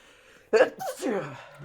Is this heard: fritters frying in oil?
no